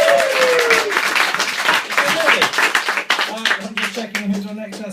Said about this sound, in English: So I think that deserves an extra big round of applause